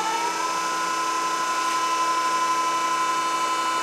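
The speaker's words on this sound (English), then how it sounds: "hit enter and spindle start, and then pan over there and we'll do a couple on offs with the spindle" A Denn RPI 300 CNC spinning lathe spindle spins up, its whine rising at the start and then holding as a steady, loud, high machine tone with a layered hum.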